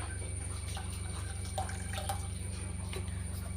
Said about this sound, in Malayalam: അതിനനുസരിച്ച് വെള്ളം ഒഴിച്ച് കൊടുക്കുക